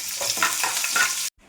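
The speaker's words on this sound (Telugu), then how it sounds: "ఇలా ఎర్రగా వేయించుకోవాలి." Tempering of mustard seeds, cumin, fenugreek, curry leaves, dry red chillies and asafoetida frying in oil for a coconut chutney, a loud steady close sizzle with stirring that cuts off abruptly near the end.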